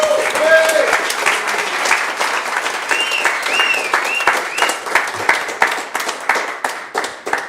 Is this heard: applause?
yes